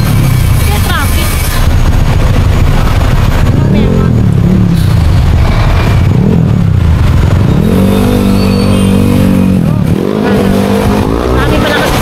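Heavy road traffic with many vehicles, motorbikes and cars passing close with engine revs and swelling drones, under constant loud conversation.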